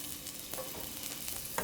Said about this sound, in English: adding a little bit of olive oil to our pan. And we are going to brown up 1 onion